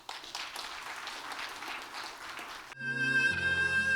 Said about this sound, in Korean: 우리 김정애 시인님을 박수로 모시겠습니다.